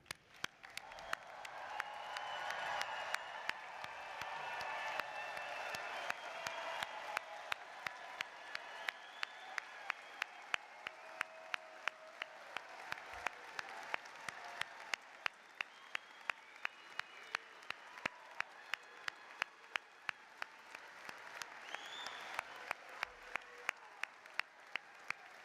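A large commencement audience applauds the graduating class, sustained dense clapping that swells and holds for the whole stretch, with some cheering mixed in.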